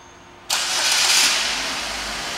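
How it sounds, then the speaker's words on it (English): A 2012 Buick Regal engine fires up by remote start after a quiet moment, cranking briefly and then settling into a steady, close idle that slowly eases down in level. "Let's go ahead and do the remote start."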